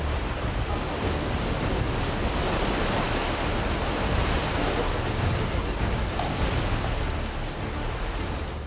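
Seawater fills a sea cave in Indonesia used for swiftlet nest harvesting, a loud, continuous roar of surging water and surf with no voices.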